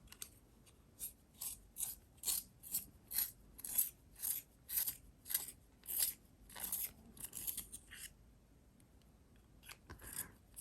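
A hand pencil sharpener grinds in quick, rhythmic scraping strokes, about a dozen crisp turns close up, then slows and pauses with a final scrape.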